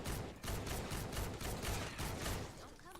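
Tiger military assault rifle from Fortnite Save the World firing in quick repeated bursts at a group of husks, loud and close with short pauses between volleys and a tail of fading echoes at the end.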